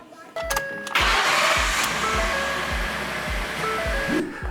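A car engine cranks with a few rhythmic starter turns and then catches after a TOPDON V2200Plus jump start, settling into a steady running roar before a final clunk.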